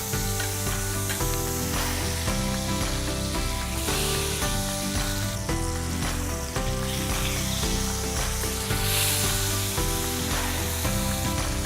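Pork sears in a cast iron pan, spooned over with garlic and thyme fat, giving a steady, close sizzle that runs without pause beneath a layer of sustained musical tones.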